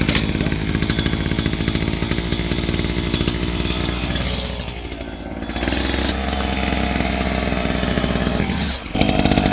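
A string-trimmer brush cutter engine, held down by a foot on the housing while it is pull-started, roars loud and steady with a continuous two-stroke buzz, dips briefly midway, then revs back up.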